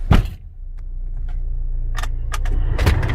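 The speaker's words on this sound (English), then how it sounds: "it's a key, one crank, it starts up" A 2016 Nissan Almera 1.5 turned over with the key: a jangle of keys, then the engine catches on one crank and settles into a low, steady idle, heard close from inside the car with a few light clicks and no talk.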